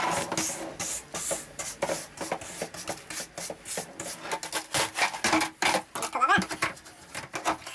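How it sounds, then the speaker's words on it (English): A brush sweeps papers and debris across a desk toward a bin in quick, rough, uneven strokes, heard close and loud, with a voice audible at moments. "a brush that I'm just going to brush everything into the bin"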